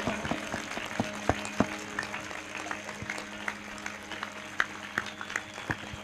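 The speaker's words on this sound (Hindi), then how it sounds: "जोरदार तालियों के साथ दिल खोलकर" A congregation at a morning prayer service claps, with sharp individual claps standing out over a thinner, uneven background of applause from the room.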